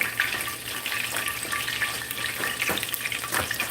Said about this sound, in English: now we're gonna shake these.